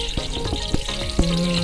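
Curry leaves sizzle in hot oil over a village cooking fire, a close crackling frying hiss with sharp pops and stirring clinks over a short stretch, no talk.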